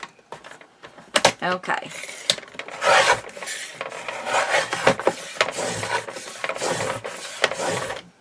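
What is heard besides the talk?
paper being cut for a bird watcher journal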